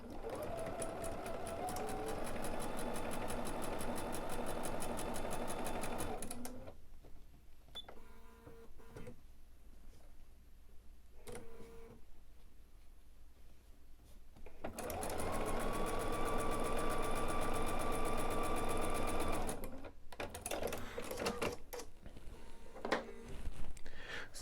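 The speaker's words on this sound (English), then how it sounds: "we are going to place this line on the right edge of our 1/4 inch foot. And we're going to sew down each side." A sewing machine stitches quilt block seams with a 1/4 inch foot, running in two long steady whirring bursts separated by a quieter pause with light handling clicks.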